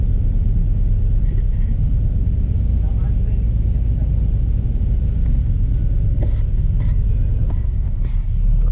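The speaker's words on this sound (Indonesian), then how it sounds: "Papasan dengan bus wisata BW1 dari arah Kali Besar" A TransJakarta BW1 double-decker tour bus drives past the Kali Besar area of Jakarta, a loud, continuous low engine rumble with road noise, heard from on board, with some talk mixed in.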